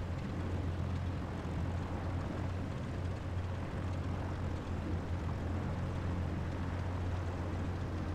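A Pitts Special S2S propeller aerobatic plane in Microsoft Flight Simulator runs up for takeoff on Madeira, a steady droning engine hum with a low buzzing tone throughout, moderately quiet and continuous, with no talking.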